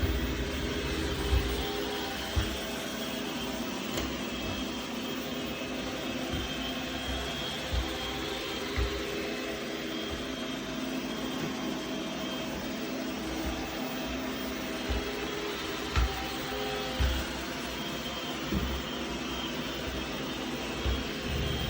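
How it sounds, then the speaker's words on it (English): An iRobot J9+ combo robot vacuum runs across the floor while vacuuming and mopping, giving a steady, even motor whir and hiss that continues without pause, with faint occasional knocks along the way. "So as you see in this video, it is vacuuming and mopping with no problem."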